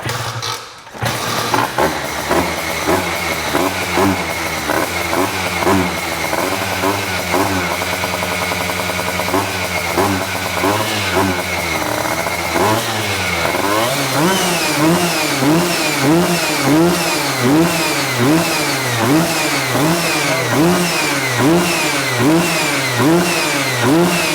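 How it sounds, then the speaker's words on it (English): A Vespa PK small-frame scooter engine on full choke fires after a short thump, then settles into a steady buzzing idle and blips through repeated rhythmic revs, loud and close, with no speech. "give it a full choke, and let's see if it fires right up."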